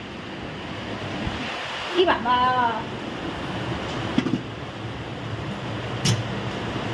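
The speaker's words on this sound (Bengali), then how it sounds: "ভীষণ জোরে বৃষ্টি নেমেছে" Heavy rain and gusting wind roar in a constant loud wash at open windows, while a person briefly speaks near the microphone.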